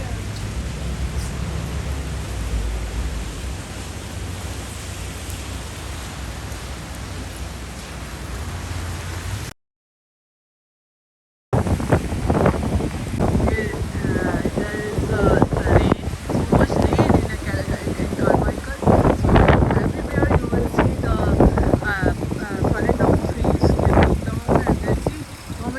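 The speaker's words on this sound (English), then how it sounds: "There was, it's so much rain and windy." Heavy rain and gusting wind at night make a loud, steady roar that cuts out briefly and returns harsher, with buffeting bursts against the microphone.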